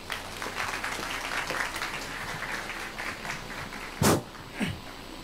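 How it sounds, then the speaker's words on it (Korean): Audience at a business forum lecture in Korea applauding to welcome a speaker, a steady, moderately loud wash of clapping that fades near the end, followed by a couple of sharp knocks or creaks. "그럼 큰 박수와 함께 안영일 대표님 모셔보겠습니다"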